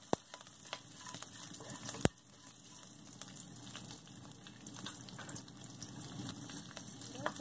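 Slit green chillies tossed into hot oil with curry leaves for an egg curry, giving a steady soft sizzle and crackle with a sharp pop near the start and another around two seconds in.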